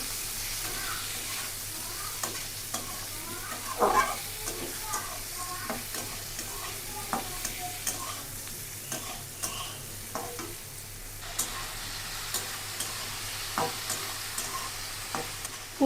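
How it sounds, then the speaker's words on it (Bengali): Potato, eggplant and cauliflower are stir-fried in a pan, a steady soft sizzle broken by frequent spatula scrapes and clinks against the pan, close and fairly quiet throughout. "এখন এটাকে কষিয়ে নিতে হবে"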